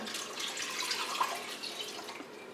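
Cream poured into a cooking pot on a stove, a soft continuous trickling splash that stays faint and steady for a few seconds with no talking.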